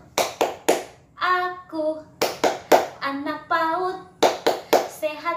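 Young children in an Indonesian early-childhood class doing a rhythmic clapping chant, sharp hand claps alternating with sung chanted voices in a quick, regular pattern, close and lively.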